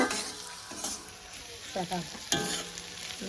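Fish with eggplant, onion and turmeric frying in hot oil, with a steady close sizzle broken by several sharp spatters and crackles as the pan is stirred.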